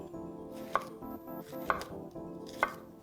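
Knife chopping half a red onion into large pieces on a board, three sharp separate cuts about a second apart, close and fairly quiet with no voices.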